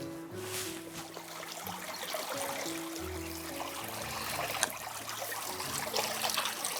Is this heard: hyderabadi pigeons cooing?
no